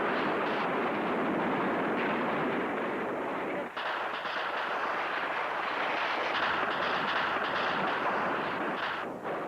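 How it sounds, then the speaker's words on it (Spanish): Heavy, continuous booming blasts of tank cannon fire against La Moneda palace in Santiago, Chile, roll on without pause, dense and loud, from close range. "Los tanques dispararon 79 cañonazos contra la moneda"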